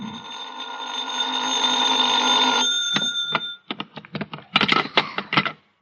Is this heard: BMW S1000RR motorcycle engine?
no